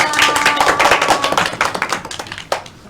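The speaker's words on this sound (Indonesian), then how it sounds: "Ayo kita beri tepuk tangan Mbak Calisa" Classroom applause for a student during a geography microteaching lesson: a dense burst of clapping from a small group, close and loud, thinning toward the end with a few last claps, with faint voices beneath.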